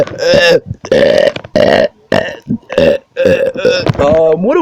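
A loud burping attack: a long run of deep, drawn-out burps follows one after another with short gaps, close and forceful throughout, with no talking.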